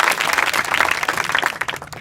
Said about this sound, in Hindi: कोशिश करने वालों की ताली बजाओ।